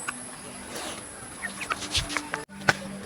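Roosters and hens cluck softly in short scattered calls over a quiet background, with a few small knocks and rustles nearby.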